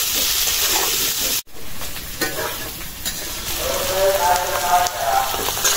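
Potatoes fry in hot oil with a steady sizzling hiss and a few stirring scrapes, close and loud, with no talking.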